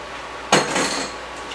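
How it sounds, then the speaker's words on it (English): Hot chili oil is strained into a bowl: a sharp metallic clank of pot against bowl, followed by a short hissing pour that fades over about a second, with no talking. "You're going to strain the oils into a bowl."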